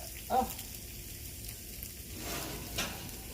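Stir fry sizzling in a pan on a home stove, a steady close frying hiss with a couple of brief stirring scrapes and no talk.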